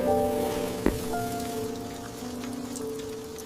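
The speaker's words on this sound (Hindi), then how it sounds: "कितना सुकून है इस बारिश में।" Steady rain falling outside during a honeymoon stay, a continuous close patter that fills the whole stretch, with a low tonal hum beneath it and one brief thump early on.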